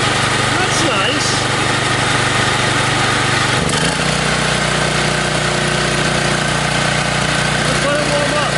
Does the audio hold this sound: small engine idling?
yes